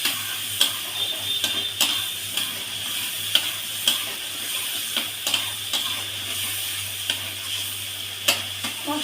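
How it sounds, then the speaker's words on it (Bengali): Spice paste with salt and turmeric sautéed in oil, a low steady sizzle broken by repeated sharp clicks and scrapes of a spoon stirring the pan, evenly spaced over several seconds. "এবার মশলাটা আমি সুন্দর করে কষিয়ে নেবো"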